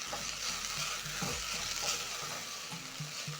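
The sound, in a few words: rice being tossed in a pot with mustard seeds and carrot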